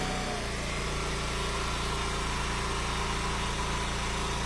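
A log splitter engine roars steadily at full throttle, a loud, close, continuous drone with a throbbing low rumble and no talking.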